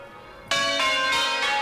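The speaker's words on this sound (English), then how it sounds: "It's the 10 bells that call out to the heavens." Church tower bells at Christ Church Cathedral, a peal of ten, ring out loudly after a quiet moment, with several rich overlapping strikes in quick succession that leave a sustained metallic hum.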